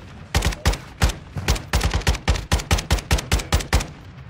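A close, loud burst of rapid gunfire from Modern Warfare 2, roughly fifteen sharp shots in a quick, fairly even rhythm, with no voices over it.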